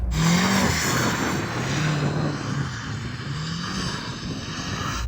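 A BMW M5 CS drifts, its engine holding a loud, steady drone with a few rising and falling pitch sweeps as the throttle is worked, broad tire and wind noise filling the background, with no talking.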